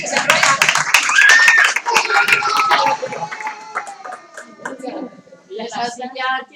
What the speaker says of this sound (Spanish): Ya está, un aplauso.